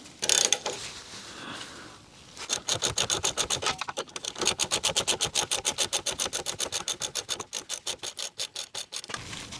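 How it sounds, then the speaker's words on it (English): A rapid ratcheting clatter from a wrench undoing the bottom bolt on a Rover P4 front shock absorber, close and fairly quiet, in long regular bursts after a short scrape. "So the first thing we're going to do is undo the bottom bolt on the shock absorber."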